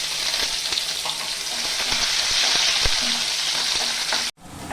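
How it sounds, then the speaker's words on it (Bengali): Onion, garlic, dried chillies, whole cumin and whole garam masala fry in hot oil for duck egg kosha, a loud, steady, close sizzle with occasional stirring scrapes, briefly cut off near the end. "পেঁয়াজটা আমার লাল করে অল্প ভাজা হয়ে গেছে"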